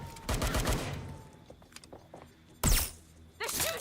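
Gunfire in Watch Dogs: Legion cracks out in a close, rapid burst at the start, then two louder sharp shots follow after a quiet gap, with faint background game noise between them.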